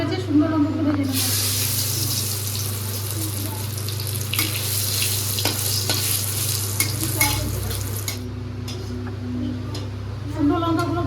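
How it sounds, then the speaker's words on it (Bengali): Chillies fry in hot oil in a wok, a steady loud sizzle with stirring and scraping rising after the first second and running nearly throughout, with a constant low hum beneath. "তেল গরম হয়ে গেছে, সুন্দর লঙ্কাগুলো ভেজে নেবো।"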